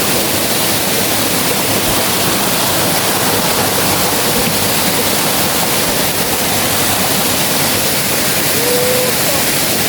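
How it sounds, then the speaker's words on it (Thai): Steady, dense roar of falling water at Tat waterfall, loud and continuous throughout with no breaks, like standing close to the falls. "ธรรมชาติน้ำตกตาด"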